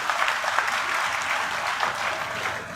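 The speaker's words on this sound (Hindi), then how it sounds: "ऐसे हमारे होने वाले मुख्यमंत्री के लिए जोरदार तालियां सम्मानित साथियों" Loud applause from a crowd at a political rally in Haryana, greeting a future chief minister with steady, dense clapping throughout and no voices on top.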